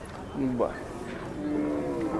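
Khillar bulls at a busy cattle market in Sangola bellow with two or three long, loud moos close by, over a steady background murmur of the crowd.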